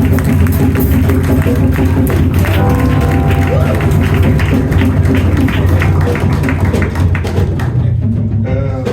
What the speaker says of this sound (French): Let's clap for the baptized.